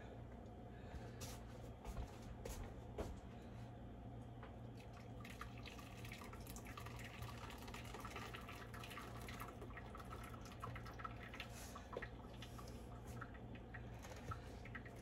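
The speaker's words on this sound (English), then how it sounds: "Let's see what kind of luck I have pouring it through this strainer over here." Creme caramel custard trickles through a kitchen strainer in a faint, steady patter of liquid with scattered drips, low and continuous, with no talking.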